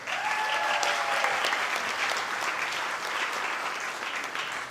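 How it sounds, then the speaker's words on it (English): An audience at a band concert applauds the soloists, including piccolo players, with steady, dense clapping that fills the whole stretch at an even level and tapers slightly toward the end. "Let's just give them a round of applause."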